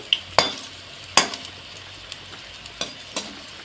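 Whole spinach pakoras fry in hot oil, a steady faint sizzle with a few sharp clinks or scrapes of a utensil against the pan.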